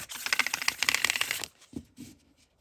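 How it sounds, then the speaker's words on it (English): A tarot card deck is riffle-shuffled up close, with a dense, rapid flutter of cards for about a second and a half, then a few soft taps and thuds as the deck settles. "what a pleasant shuffle as well"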